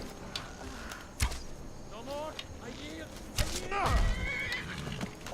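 The horse Shadowmere in the Skyrim video game whinnies several times amid hoof clip-clop and sharp combat impacts, the neighs rising and falling at close range.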